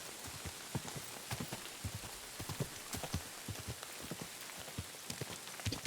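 Rain falling in the Kingdom Come Deliverance 2 video game, a dense steady patter of drops on surfaces with soft horse hoof clops mixed in, even and continuous.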